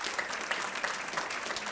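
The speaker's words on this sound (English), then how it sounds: "Give Senator Ben Allen a round of applause while we're here." A civic audience at a State of the State event in Torrance, California applauds Senator Ben Allen, a brief burst of many hands clapping at moderate distance with a faint murmur underneath.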